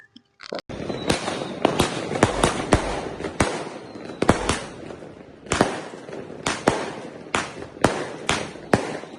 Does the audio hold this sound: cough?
no